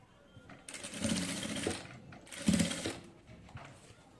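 A sewing machine stitches a neck design on a kameez in two close, steady bursts with a short pause between them, with no talking.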